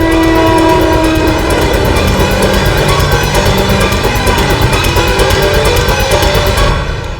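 A passenger train runs on rails near Mandideep station, a loud, continuous rumble and clatter that holds steady and then eases off at the very end.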